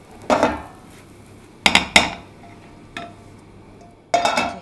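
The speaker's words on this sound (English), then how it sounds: "using the spatula, work the side so that it releases it from the side. We're going to try to flip this" Metal spatula scraping and clinking against a pan while loosening and flipping a kuih ketayap pancake, several sharp scrapes and clatters spaced apart, close and clear with no talk.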